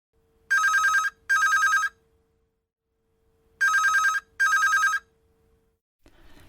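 Old-style telephone bell ringing in two double-ring bursts, loud and close, with a silent gap between the pairs and a brief rustle at the end.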